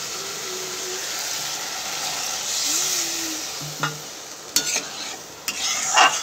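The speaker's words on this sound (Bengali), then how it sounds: "একটু নাড়িয়ে আমি জল দিয়ে দেবো।" A spiced fish curry is stirred in a pan over a steady sizzle, with a spoon scraping and clinking against the pan in a few short strokes near the end.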